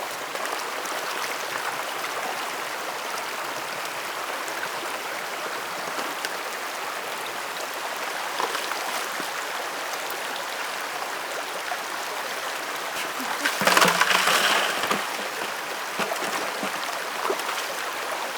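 Water sloshing and swirling steadily in a gold pan out in the Santa Rita Mountains, a continuous close wash of trickling and splashing, with a brief louder splash toward the end.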